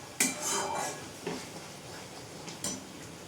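Spoon scraping and clinking against a pan while masala with cashews is stirred, a few sharp metallic taps and scrapes spaced over a few seconds against a quiet background.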